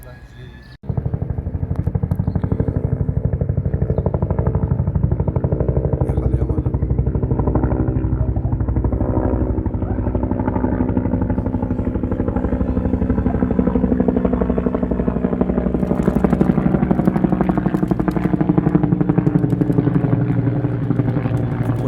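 A steady, loud rotor-and-engine drone runs almost the whole time, starting abruptly after a brief quiet moment, with faint voices mixed in.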